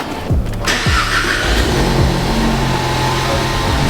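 A Ford Mustang RTR with exhaust valves closed is revved up close in a few sharp blips, then holds a steady, muffled engine drone.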